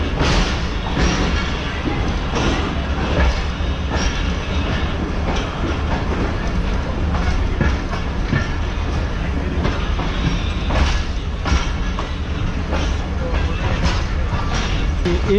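A passenger train runs along Main Line 2 in Pakistan, its carriages rattling with a steady clickety-clack and periodic thumps from the wheels, loud and close throughout, with faint voices in the background.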